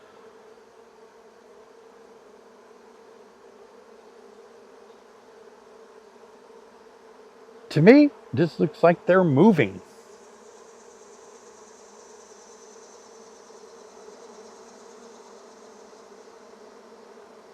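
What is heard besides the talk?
honey bees buzzing in opened hive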